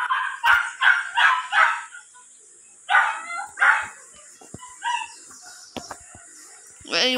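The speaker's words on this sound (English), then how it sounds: "Shut up, doggy!" A dog in the Kitty Cat Simulator video game barks in quick bursts, four rapid yaps, a pause, then two more and scattered clicks, loud and close with a steady electronic tone behind it.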